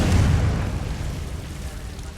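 A Confringo fire-spell blast in the Hogwarts Legacy video game: one deep, booming explosion that hits hard at the start and rumbles away over about two seconds.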